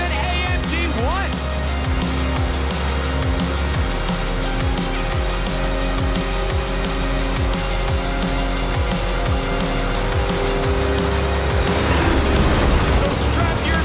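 A cargo plane roars past neck and neck with an AMG race car in a driving video game, a dense, steady engine-and-jet rumble filling the clip with sweeping tonal whines, a brief rising swoop near the start and a swell near the end.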